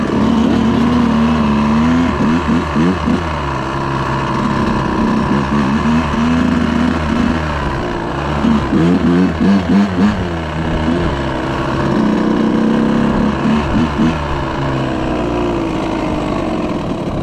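Dirt bike engines revving nearby, a loud, continuous motor drone that rises and falls in repeated throttle surges, with no voices over it.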